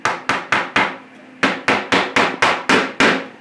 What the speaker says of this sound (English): Take your nail, just set it on the anvil, I'm going to hammer it through.